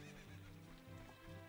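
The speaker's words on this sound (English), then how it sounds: "here's my horse" A horse in the video game The Legend of Zelda: Ocarina of Time gives a faint, low whinny, with soft repeating, hoof-like pulses under steady background hum, quiet and distant.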